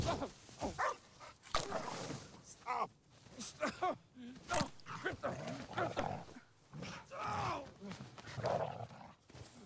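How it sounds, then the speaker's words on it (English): Dog sounds, barks and whimpering yips, come in irregular bursts through a busy, loud mix of other noise, with people talking. "like a typical dog."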